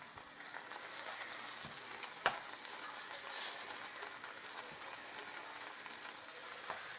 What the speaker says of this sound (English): So while my hamburger's cooking, my hamburger helper for that right there